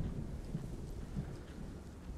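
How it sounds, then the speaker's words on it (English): In the video game Alan Wake 2, a low, rolling rumble of thunder sits beneath steady rainfall, forming a dim, continuous storm backdrop with no voices. "Why do I hear thunder?"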